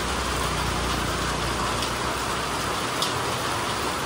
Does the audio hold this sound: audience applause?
no